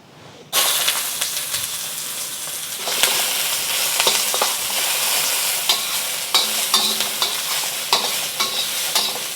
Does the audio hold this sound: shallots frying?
yes